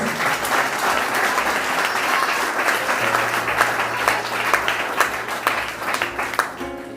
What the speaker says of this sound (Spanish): Brinden un fuerte aplauso a Dios